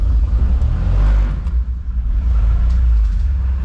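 ASV RT-60 compact track loader diesel engine running in cold weather after glow plugs, a loud, steady low rumble close to the microphone with slight throttle swells and no talk.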